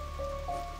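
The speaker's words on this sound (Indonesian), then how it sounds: "Ini hujan tengkujuh." Steady monsoon rain falls during a flood, a soft continuous patter with a faint tonal hum in the background and no voices.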